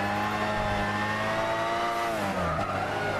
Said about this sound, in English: Let me just stop talking for about 10 seconds so you can hear the car.